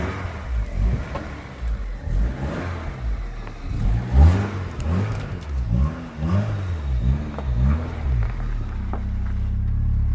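An MG ZR180 engine revs repeatedly in rising and falling sweeps on its first drive after ten years of sitting abandoned, loud and steady inside the car with no speech.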